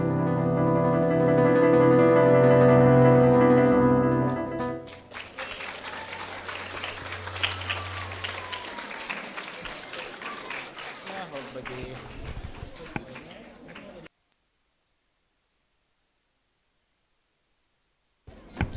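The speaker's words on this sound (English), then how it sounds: "give her another round of applause," Audience applause at a primary school prize-giving ceremony, beginning as a tune ends and continuing as a busy, moderately loud patter of clapping before cutting to silence.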